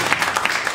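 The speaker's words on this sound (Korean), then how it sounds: "박수 한번 주세요" Applause from an audience after a design presentation: a continuous patter of many hands at close range, even and fairly loud for under a second.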